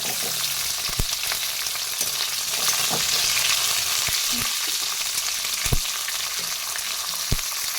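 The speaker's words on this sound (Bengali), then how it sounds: "ক্যাপসিকামগুলো একটু নাড়াচাড়া করে নিচ্ছি" Chopped capsicum and green chillies frying in oil in a pan, a steady close sizzle with occasional knocks of a spoon stirring against the pan, no talking.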